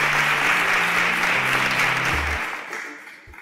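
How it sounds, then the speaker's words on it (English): Applause for contestants leaving the stage of a televised competition, a full, dense clapping crowd that carries on steadily, then thins and fades near the end under a held musical tone. "can we give them a round of applause as they exit this stage?"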